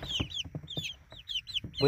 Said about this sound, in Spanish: ahorita junté todos los pollitos aquí